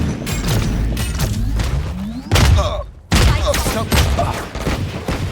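Gunfire in the video game Valorant comes as dense, rapid volleys of loud shots with heavy thumps, a brief lull, then more bursts of firing.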